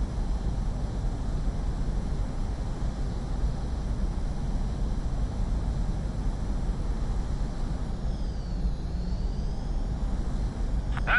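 Jet plane engine in the Ace Combat VR game: a loud, continuous engine roar and rumble sustained for over ten seconds, with a brief rising whine near the end and no talking.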